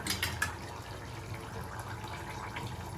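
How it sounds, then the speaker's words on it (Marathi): Water poured into a pot of sour-sweet village-style moringa drumstick curry with kokum and jaggery, a steady close splashing pour lasting a few seconds with brief louder spurts at the start. "थोडंसं पाणी घालू."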